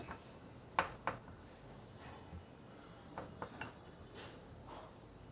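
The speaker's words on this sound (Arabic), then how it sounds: "هقلب كل الخليط مع بعضه كده، كلها حاجات ناشفه" A spoon stirs a dry seasoning mixture with salt for fish in a bowl, giving a few soft clinks and scrapes, two sharper knocks early on and quieter scraping afterward, close and otherwise quiet.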